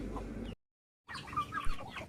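Chickens cluck close by in short, soft bursts, broken by a moment of silence before more clucking resumes.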